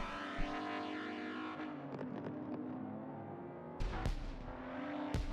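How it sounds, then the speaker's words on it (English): Lotus race car on an uphill section of a Dubai charity race, engine revving and droning steadily with harmonic whine, broken by sharp crackling pops on downshifts near the end, loud and close with no talk. "These Lotuses sound brilliant. They are beautiful sounding cars. Little pops you get when you're downshifting."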